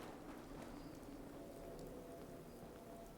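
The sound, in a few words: rain in Fallout 4 video game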